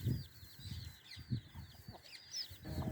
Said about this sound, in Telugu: ఆ పుంజి కానీ మేత చూసి దూసి కేకేస్తూ ఉంటుంది